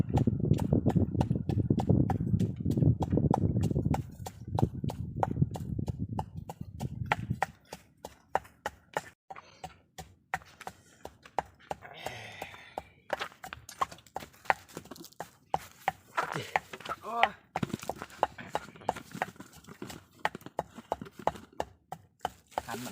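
A Lao chili dip (jaew) pounded in a mortar: steady rapid thuds, dense and strong at first, then sparser, sharper knocks continuing outdoors in a forest setting with faint background noise.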